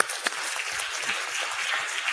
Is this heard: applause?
yes